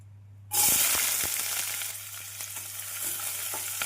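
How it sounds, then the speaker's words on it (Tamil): After a brief quiet moment, chopped onions hit hot oil with a sudden loud sizzle that keeps frying steadily, with occasional pops and stirring sounds, while cooking veg kothu parotta. "எண்ணெய் காயவும் நாம் நறுக்கிய வெங்காயத்தை போட்டு விடலாம்"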